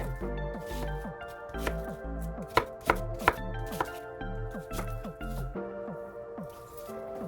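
A knife cuts butternut squash into cubes on a board, a series of firm thunks with a few sharper chops in the middle, over soft music and occasional background voice.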